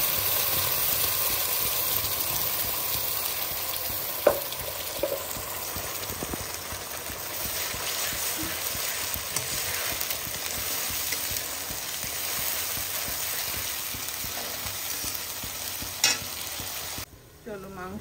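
Spices fry in a hot pan with a steady, close sizzling hiss that runs unbroken for a long stretch, marked by a few light clinks of a utensil and no talking.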